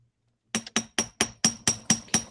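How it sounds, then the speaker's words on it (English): Steady hammer blows strike metal while making a hoop chain, eight sharp ringing clanks at an even pace, close and loud with nothing else around them. "Is it really loud when I hammer?"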